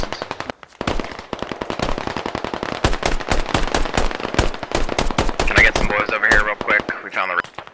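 Rapid bursts of automatic gunfire from a video game firefight, dense and loud throughout, with people talking over the shooting.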